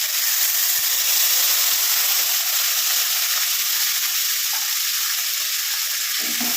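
Lemon juice mixed with turmeric and salt poured into hot tempering oil for lemon rice, making a loud, continuous sizzling hiss that holds steady close by, with a small clatter just before the end.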